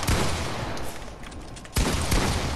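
Fortnite gunfire rattles in loud, dense volleys, easing briefly mid-clip before a sharp burst of close shots resumes.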